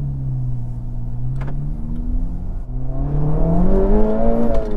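A 2024 Acura Integra Type S engine pulls hard in Sport Plus mode during a handling run, its steady drone dipping briefly mid-run and then rising in pitch as it climbs through the revs, loud and close with no talking.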